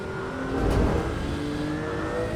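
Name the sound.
Porsche GT2 Clubsport engine revving, Assetto Corsa EVO video game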